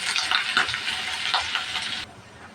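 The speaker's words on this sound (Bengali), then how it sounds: "পেঁয়াজ কুচি, কাঁচামরিচ, পেঁয়াজটা ভাজা নেব।" Chopped onions and green chilies frying in hot mustard oil in a pan: loud, close sizzling with stirring scrapes, which cuts off abruptly near the end.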